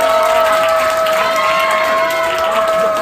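An audience at a school chapel service applauds after a performance. Dense, steady clapping and crowd noise run throughout, with a sustained ringing tone underneath.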